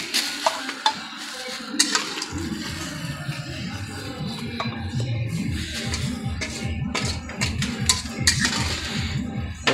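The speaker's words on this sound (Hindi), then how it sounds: "कुकर में डाल के हिला दो" A spoon stirs spiced cauliflower, tomato and peas in a pressure cooker, making repeated rhythmic scraping and shuffling strokes close by, with a light sizzle and a few metallic knocks at the start.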